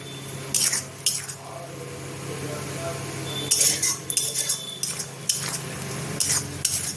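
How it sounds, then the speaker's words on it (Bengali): Spoon stirring tomato paste in a pan while cooking soybean kofta: repeated bright scraping strokes against the metal over a low steady sizzle, close and fairly loud, with no talking. "যতক্ষণ না টমেটোর গন্ধটা যাচ্ছে ততক্ষণ ভালোভাবে কষাবো।"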